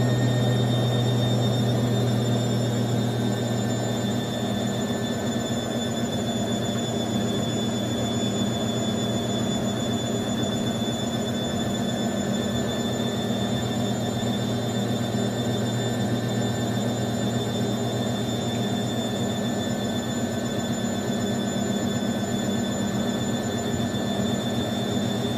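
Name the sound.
machine spinning up to 500 RPM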